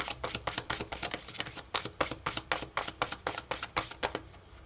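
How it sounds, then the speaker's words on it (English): A tarot deck being shuffled by hand, with a steady run of crisp, rapid riffling card flicks close up and no talking. "I'm just going to shuffle it up."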